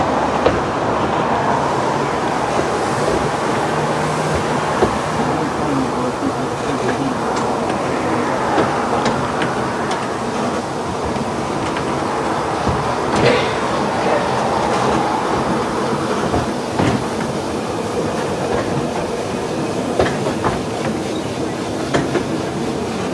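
A narrow-gauge steam light railway train on the Welshpool and Llanfair Light Railway rumbles steadily along the track, wheels clacking over rail joints and occasional squeaks, heard from inside the rear carriage.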